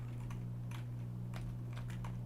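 Computer keyboard typing, a few scattered bursts of keystrokes over a steady low electrical hum, moderately close and fairly quiet, with no voices.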